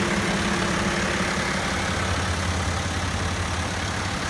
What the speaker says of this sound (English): Sounds like a diesel engine to me.